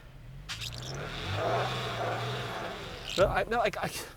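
The engine of a 2021 Toyota Tacoma Nightshade pickup revs in snow, a steady mid-pitched rumble rising and holding for a few seconds before it drops and a voice speaks over the idle.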